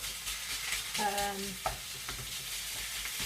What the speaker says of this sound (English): we're going to separate the mince now because it's all in one block